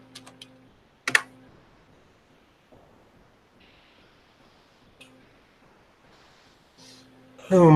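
A new folder name is typed on a computer keyboard: sparse, quiet key clicks in a hushed room, with a couple of sharper taps and a louder burst near the end.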